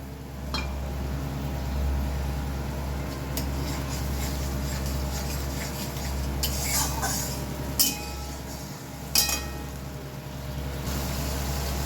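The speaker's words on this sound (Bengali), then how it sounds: "এবার আমি মশলার বাটিটা ধুয়ে একটু জল দিচ্ছি।" Kitchen clinks and clatters of a spice bowl being rinsed and water added while cooking a pomfret fish curry, with scattered sharp metallic knocks over a steady low hum.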